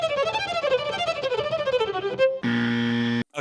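Fast, virtuosic violin runs sweep rapidly up and down in a dense, bright flurry of notes, close and loud, ending on a sustained held chord.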